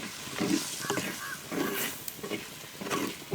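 Eggplant with vangi bath masala sizzles and is stirred in a pan, giving a continuous frying hiss with soft scraping strokes at a steady rhythm.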